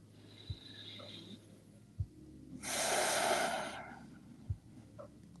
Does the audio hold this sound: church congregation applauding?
no